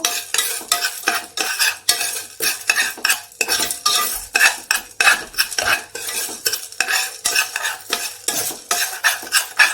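Mung beans stirred in coconut oil with a little salt in a pan: a spoon scrapes and rattles in quick repeated strokes against the metal under a light sizzle, close and steady, with no talking.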